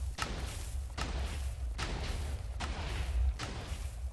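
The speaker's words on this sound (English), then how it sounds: "Well, the cannon blew itself up." TNT cannon blasts in a block-building video game: a steady series of heavy thumping explosions about once per second, each a muffled boom with a short noisy tail, repeating evenly with no talk.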